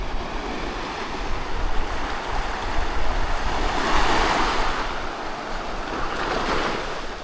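Ocean surf rolls steadily onto a beach at Alegria, Siargao, in the Philippines, a continuous wash of breaking waves with wind noise buffeting the microphone throughout.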